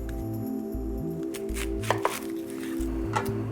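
A knife slices through onions on a cutting board while making veal stock, giving a few crisp cutting clicks over a low, steady background hum.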